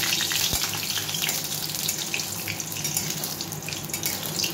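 Bori, lentil dumplings, fry in mustard oil with a dense, steady, close sizzle and bubbling hiss that goes on throughout and sounds almost watery. No voices.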